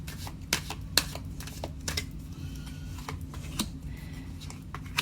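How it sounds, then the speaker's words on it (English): Tarot cards shuffled close by in a quiet room, a series of crisp papery riffles and taps in irregular bursts, with no talk. "I always shuffle in front of you so you don't see I pre-pick"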